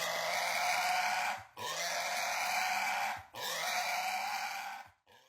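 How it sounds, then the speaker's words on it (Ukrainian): A pig gives three long, loud, harsh grunts in a row, each lasting over a second with brief gaps between, close and alone. "Гучне рохкання або фиркання ознака настороженості."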